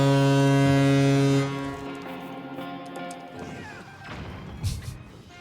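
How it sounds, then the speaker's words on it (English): A deep, loud foghorn from Tears of the Kingdom blasts in steady harmonic tones for about a second and a half, then cuts off into quieter clattering game sounds and a few thuds. "showing us one of those foghorns"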